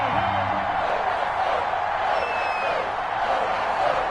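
Sold-out stadium crowd in an EA Sports NFL video game, Patriots versus Arizona Cardinals, roaring as a steady, dense wall of broadband noise with faint whistle-like tones over it.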